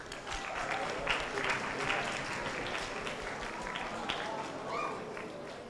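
Audience applause welcoming Team Rice Spice onto the stage at a hackathon premiere, a steady wash of clapping at moderate level throughout with crowd noise mixed in.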